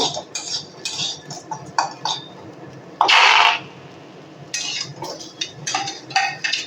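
Ripe mango pieces being stirred in a hot pan with a utensil, giving a series of scraping and clinking bursts, close and moderately loud, with a louder scrape near the middle, over a faint frying hiss.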